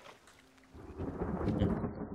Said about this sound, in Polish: Patrz, patrz, patrz deszcz.